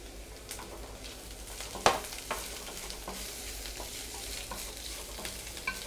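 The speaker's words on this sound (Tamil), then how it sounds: "வெங்காயத்தை வந்து நல்லா வதக்கிக்கோங்க" Onions and curry leaves sauté in oil for a zucchini raita tempering: a faint, steady sizzle with scattered soft stirring scrapes and one sharper clack partway through.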